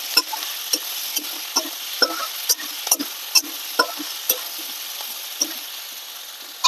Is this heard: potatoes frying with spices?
yes